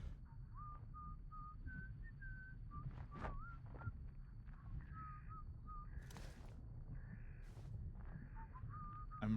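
A game character in Atomfall whistles a wandering tune in clear, separate phrases across several seconds, over a low ambient rumble, with a few sharp clicks and crow-like caws mixed in.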